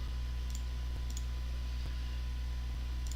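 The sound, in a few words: mouse click on Save button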